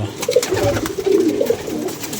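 Pigeons coo in low, throaty bursts, several calls overlapping at close range against a steady background murmur.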